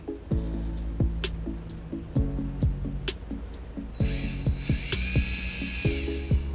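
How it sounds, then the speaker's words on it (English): A power drill bores a small 1/4-inch hole through a flood plug on a 2010 Toyota RAV4 during a trailer wiring install, its whine rising in the last couple of seconds over a steady background of repeating tones. "I'll drill a little 1/4-inch hole through the flood plug"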